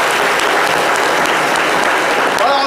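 A studio audience applauds loudly and steadily for the whole stretch, a dense wash of many hands clapping with faint voices mixed in during a live talk show broadcast.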